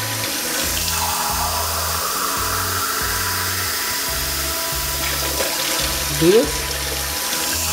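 Water is poured steadily into a pot of measured rice for sushi, a continuous splashing rush under a regular rhythmic background thump, with a brief spoken count near the end.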